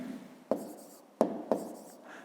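Pen or chalk writes numbers by hand during a fifth-grade maths lesson, making three quick scratchy strokes with short pauses between them over a quiet background.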